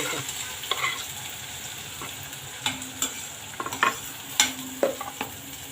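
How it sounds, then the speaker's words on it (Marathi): Two finely chopped onions fry in a kadhai of oil with cumin seeds, giving a steady close sizzle broken by the scrape and clatter of a spoon stirring now and then; no one speaks. "आता याच्यात आपण कांदा टाकून घेऊया।"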